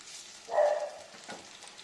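A jackfruit-seed sweet is stirred in a pan as sugar goes in, giving one soft scraping swish in the middle of an otherwise quiet, faint stretch.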